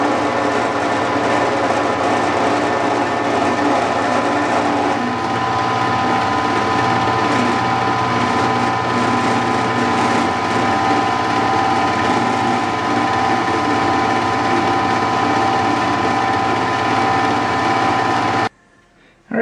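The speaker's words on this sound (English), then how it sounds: "I just got done milling a 45-degree bevel on there" A milling machine cuts a 45-degree bevel, giving a steady, loud, close mechanical whir with a rhythmic gear-like chatter that holds evenly for about eighteen seconds before stopping abruptly; no voices are heard.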